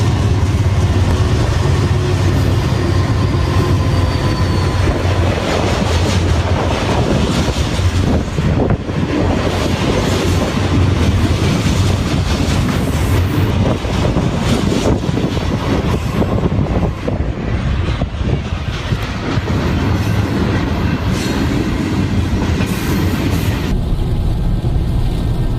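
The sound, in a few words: freight train passing with clickety-clack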